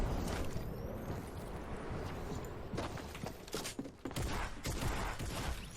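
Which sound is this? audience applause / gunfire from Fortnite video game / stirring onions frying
gunfire from Fortnite video game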